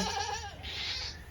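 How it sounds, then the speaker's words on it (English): A single goat on a goat farm gives one close, wavering bleat that shifts pitch partway through, short and clear against quiet surroundings. "Here's a goat watching the baby goats."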